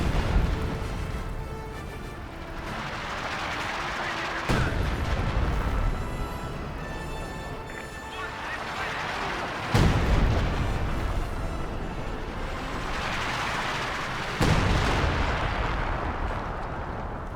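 Artillery shells and gunfire from Company of Heroes 2: three heavy booming impacts spaced about five seconds apart, each ringing out with rumbling tails, over a continuous bed of battle noise and scattered shots.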